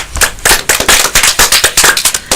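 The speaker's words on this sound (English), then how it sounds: "Like give a round of applause." A burst of loud, close clapping from a small group, with dense, irregular sharp claps running steadily for a couple of seconds and no voices over it.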